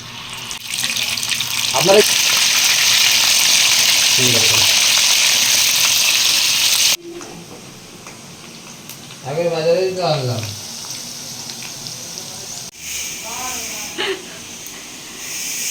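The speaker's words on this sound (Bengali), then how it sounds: "ততক্ষণে আমি এখানে মাংসটা ধুয়ে নিই" Kitchen tap water gushes in a steady hiss while meat is washed under it, then stops and restarts in shorter runs, with a voice talking in between.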